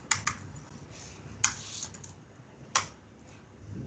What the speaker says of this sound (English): Pressures of typing while everybody is watching.